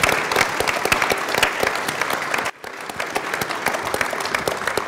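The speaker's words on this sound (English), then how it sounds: "you should also give a nice round of applause to Dan for chairing" Audience members at a 2015 political hustings in Rothesay clap steadily, a dense sustained round of applause with a brief dip midway before it continues.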